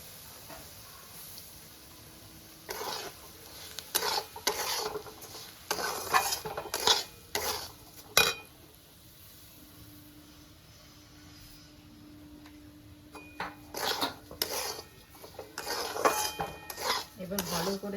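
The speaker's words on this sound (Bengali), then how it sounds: "তো সুজিটা আমার এইভাবে ভাজা হচ্ছে" Semolina roasts in oil with onions and curry leaves for upma, heard as a faint background sizzle under repeated clattering scrapes and taps of a spoon stirring in a metal pan, in bursts with quieter gaps.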